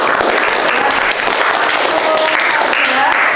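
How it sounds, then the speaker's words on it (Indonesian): Loud, sustained applause from a group gathered at a classroom sit-in session, many hands clapping densely and evenly throughout with a faint murmur of voices underneath. "Beri tepuk tangan dulu untuk kelompok 1"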